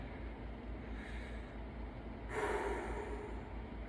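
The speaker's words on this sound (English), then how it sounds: "Deep breathing here." Deep breathing during a yoga sculpt class: a soft breath partway through, then a louder, longer breath near the end, alone over a quiet room.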